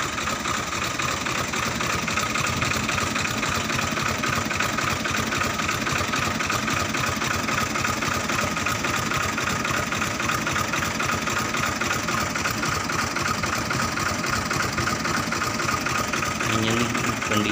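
A 2007 New Holland 480 Special tractor with its diesel engine idling, a steady close rumble with even mechanical clatter throughout, unchanging and loud.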